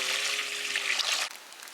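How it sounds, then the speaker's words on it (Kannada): Water poured into rice in a pot for pork biryani, cooked outdoors over a forest fire: a short steady splashing pour, fairly close, ending abruptly after about a second. "ಫ್ರೆಂಡ್ಸ್ ರೈಸ್ಗೆ ನೀರು ಹಾಕ್ಕೊಳ್ಳಿ"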